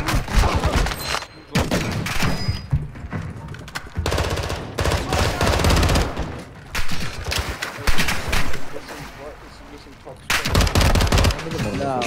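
Rapid bursts of gunfire from a Warzone 2 battle royale match, loud and dense with repeated automatic volleys and sharp shots, briefly pausing before erupting again, with voices talking over parts of it.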